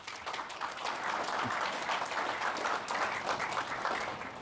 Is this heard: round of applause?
yes